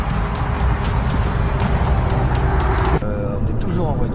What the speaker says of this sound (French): On est toujours en voiture